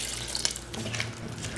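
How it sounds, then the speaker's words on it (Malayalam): Water pouring into sambar in a pressure cooker, a steady splashing stream that runs the whole time, close and moderately loud, with no voices. "ഇതിലേക്ക് കുറച്ചുകൂടെ വെള്ളം ഒഴിച്ച് കൊടുക്കണം കേട്ടോ."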